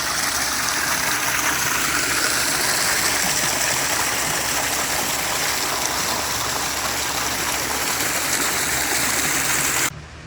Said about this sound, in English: You have a couple steps up to a waterfall and spa.